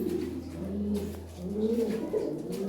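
Fancy pigeons coo softly in low, rolling murmurs, a few overlapping calls over a quiet steady hum.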